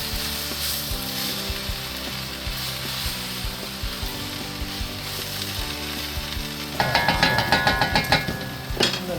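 Yakisoba noodles with soy sauce sizzling and frying in a pan, a steady crackle throughout that grows louder and busier near the end with scraping stirs.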